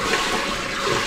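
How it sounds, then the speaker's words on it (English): A boat's bilge pump discharges water on a sailboat, a brief, steady rushing gush of moderate loudness with no voices. "And now we're testing that the bilge pump works"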